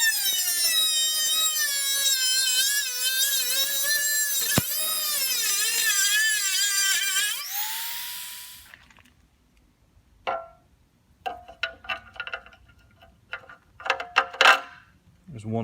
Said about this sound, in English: I'll go ahead and just trim this square out or rectangle out right here